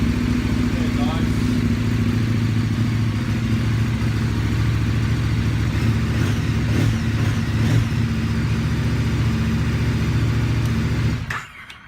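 KTM 1190 motorcycle engine idling steadily after a new inline fuel filter was fitted, a constant low rumble with some mechanical clatter that stops abruptly near the end.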